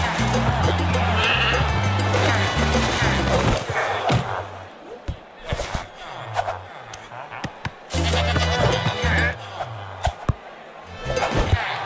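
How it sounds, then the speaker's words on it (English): Goat bleating in an animated stick-figure short, repeated cartoonish bleats in bursts over a busy, loud soundtrack with crashes and crowd-like noise. "That's a goat."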